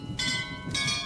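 Two ringing bell strikes in the Bioshock Infinite video game, each a bright metallic clang with a long sustained shimmer, the second following about half a second after the first.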